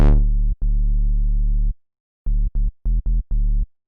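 Deep, harmonically rich Serum synth bass notes with light distortion giving a slight gritty edge: one long sustained tone, a pause, then a run of short choppy stabs.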